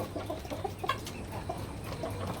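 Black Australorp chickens cluck in short, scattered calls over steady low farmyard background noise, with no talking.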